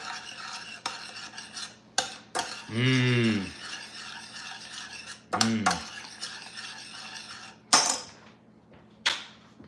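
Cake batter is stirred in a bowl with a utensil, giving irregular scraping swishes and a few sharp clinks against the bowl's sides. Close and fairly quiet, with a faint tonal hum running underneath.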